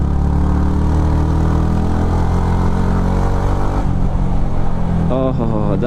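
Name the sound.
Yamaha MT15 motorcycle engine passing beside a wall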